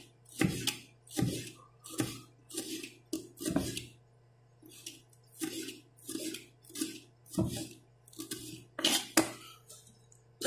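Knife thinly slicing red chilies for sambal dabu-dabu, heard as a series of crisp, evenly spaced cuts against a board, close and fairly quiet, with short pauses between strokes.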